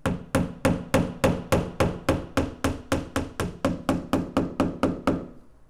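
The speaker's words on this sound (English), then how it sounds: "So let's just take a hammer and a nail." A hammer drives a nail into a wall while searching for studs, about twenty evenly spaced solid knocks in quick succession, close and loud, with no voices.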